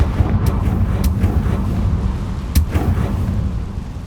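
A Confringo blasting spell goes off in Hogwarts Legacy with a deep, rumbling explosive boom, followed by sharp cracking bursts over a continuous low roar.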